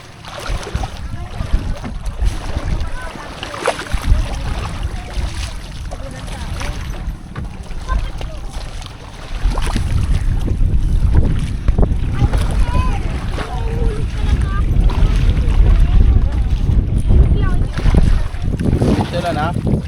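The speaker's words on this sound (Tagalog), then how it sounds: "Malakas pati ang hangin dito ng ilang araw." Strong wind at sea while riding a boat off the Titan Islands in Pagbilao: gusty, buffeting wind noise and engine or water rumble grow louder midway, with people talking over it.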